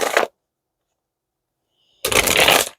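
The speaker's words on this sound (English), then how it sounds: "I just shuffled these cards a bunch." A deck of tarot cards being shuffled in two quick, close riffling bursts, a short one and then a longer one, with silence between them.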